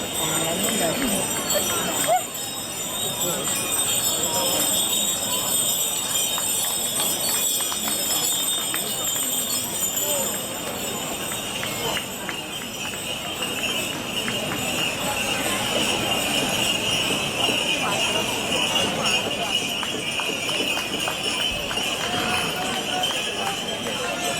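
Horse hooves clip-clop steadily amid a noisy outdoor crowd at the Sas Pariglias horse event of Sant'Austinu in Abbasanta, with voices talking throughout and a constant high hiss in the background.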